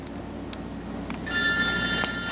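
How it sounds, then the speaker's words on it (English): A telephone rings inside a home's living area in a retirement community house, its bright electronic ring starting partway through and sounding steadily, fairly close, with no talk. "And there is a familiar sound for you. My phone rings all the time"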